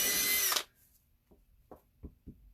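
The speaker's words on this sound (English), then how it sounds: "It's going to be really quick, so sorry about the drill noise" A small electric drill with a tiny scroll-saw bit whirs in a loud, brief burst while drilling a wooden block ornament, then cuts off, followed by a few soft knocks and clicks.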